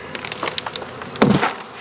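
Honey bees pour out of a swarm trap in a dense, close buzzing cloud, with a louder burst of wingbeats swelling near the end, no talking.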